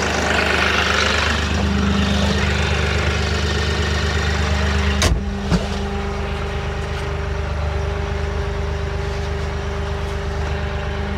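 Homestead tractor engine running steadily while driving, a loud close diesel drone with a couple of sharp clunks midway, no talk.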